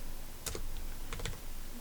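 Quiet clatter of a computer keyboard, a few light keystrokes in short clusters over a steady background hiss, with no talking.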